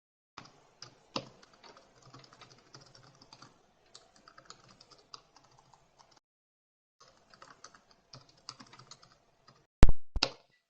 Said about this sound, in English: I was typing a comment and it's just disappeared.